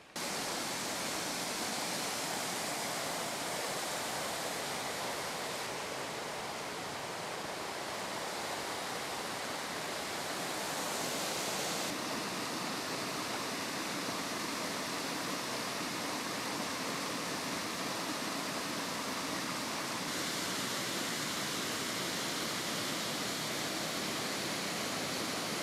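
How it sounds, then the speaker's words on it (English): Wadsworth Little Falls flows in a local park in winter. The water makes a constant, dense roar that stays even and uninterrupted for the whole stretch, with no voices. "Here we are, Wadsworth Little Falls."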